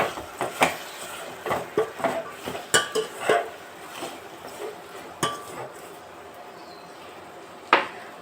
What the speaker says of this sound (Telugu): అన్నీ వేసాక బాగా కలిపేయాలి